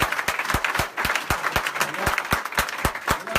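Congregation at a church service applauding the Lord, rhythmic unison clapping with regular strong beats over a steady crowd bed, some voices mixed in.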